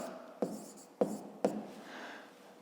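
Three sharp taps of a pen on paper during a math exercise, followed by a brief soft scratch, quiet and close in a still room.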